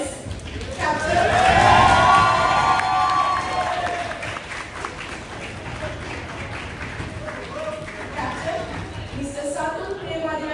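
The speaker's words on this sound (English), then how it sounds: "let's give a great big applause and welcome Team Crelovians" Crowd at a Sri Lankan medical students' union event cheers and applauds as a team is welcomed, a loud swell of clapping and shouts peaking early, then easing into a steady murmur with some talk underneath.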